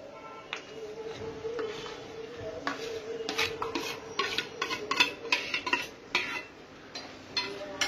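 Cashews, onion and green and red chili paste stirred into hot tempering in a pan for dhaba-style paneer masala: a steady scraping bed with repeated clinking, rubbing strokes of a spoon against the pan, growing busier midway, close and fairly loud.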